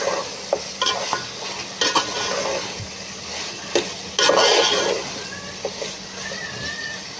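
Beef masala with whole garam masala sizzles in a pot while a spoon stirs it, giving steady close frying hiss broken by irregular scraping clicks and a few louder knocks, with no talking.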